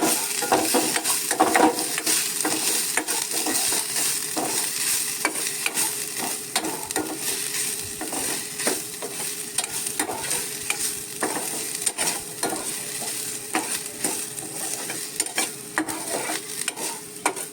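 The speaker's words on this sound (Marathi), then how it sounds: "चवीनुसार हे मीठ टाकायचं आहे आणि हे व्यवस्थित हलवून घ्यायचं आहे" A salted mixture of grated coconut and chili is stirred in a pan with a steady sizzle. Frequent scraping clinks and rattles from the spoon run throughout, close and fairly loud, with no talking.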